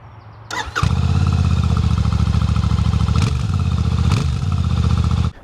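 A Royal Enfield Classic 650 motorcycle starting, a brief cranking catch followed by a loud, close parallel-twin engine running steadily with a rhythmic throb and two quick throttle blips before cutting off.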